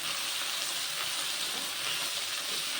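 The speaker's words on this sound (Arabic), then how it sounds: "هنزل بقى كده بالتوابل، تاخد كده تشويحة مع اللحمة" Minced meat sautéing with salt, mixed spices, cumin and nutmeg in a pan, a loud, steady, close sizzle hissing without a break.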